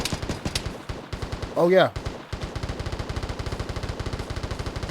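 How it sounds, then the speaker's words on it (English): Rapid bursts of LMG machine gun fire in the video game Vigor, a steady rhythmic string of shots that runs through most of the clip, with a short voice breaking in partway. "it sounds like somebody's trying to do the kill 3 Outlanders with the LMG mission"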